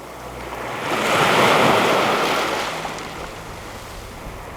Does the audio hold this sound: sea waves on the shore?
yes